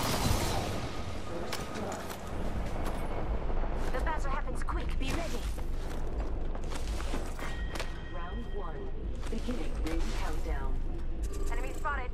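Gunfire in the Apex Legends video game, dense rapid bursts and sharp shots with footsteps and mechanical clicks, loud and close, mixed with a game character's voice lines.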